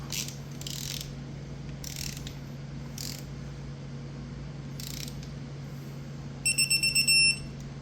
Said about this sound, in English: So you have to like go over it a bunch of times when torquing these.